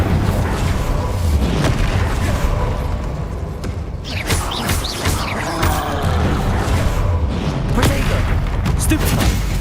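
Spell blasts and booming explosions from combat in the Hogwarts Legacy game on PC, dense, loud and continuous over nearly ten seconds, with crashes and impacts layered together.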